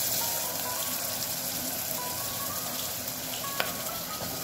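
Brinjal pieces, soaked in salt water, frying in a pan for a Jalgaon-style brinjal dish, giving a steady close sizzle throughout with one brief clatter near the end.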